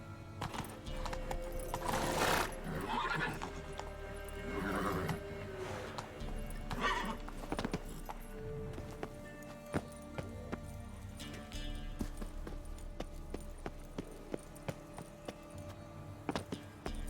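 A horse's hooves clip-clop in a steady gallop through The Witcher 3 game world, with a couple of loud whinnies early on, all under game ambience and no clear talking.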